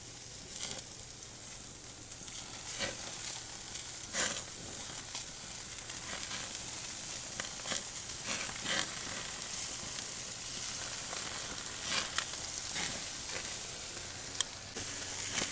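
Chicken kababs sizzle steadily on a covered grill, a continuous close frying hiss with faint crackles and pops throughout, no voices.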